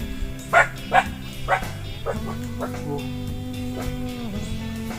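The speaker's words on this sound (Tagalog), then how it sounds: "Oh, yung mga aso" Dogs bark several times in quick succession, fairly close, then a steady hum continues with faint yips and background chatter.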